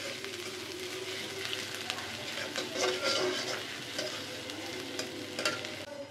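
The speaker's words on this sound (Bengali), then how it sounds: "পেঁয়াজ দিলাম। পেঁয়াজটা একটু ভালো করে ভাজবো।" Onions sizzle steadily in hot oil in a pan while a utensil stirs them, the frying hiss continuous with scraping strokes over it; no one speaks.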